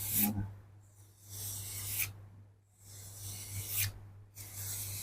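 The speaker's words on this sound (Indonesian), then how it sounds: "itu perlu kita amplas pakai amplas 400" Soft, rhythmic rubbing strokes of 400-grit sandpaper on burnt (shou sugi ban) wood, four or five sweeps with short pauses between, close and quiet over a low hum.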